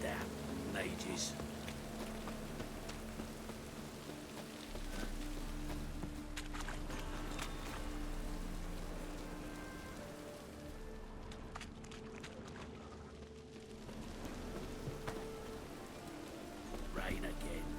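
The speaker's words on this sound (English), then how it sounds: "Rain again" Rain falls steadily in The Witcher 3: Wild Hunt, a soft, continuous patter under a low droning game background, with brief footstep-like movement and voices speaking over it.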